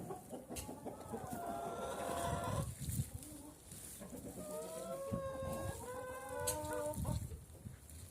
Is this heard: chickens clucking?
yes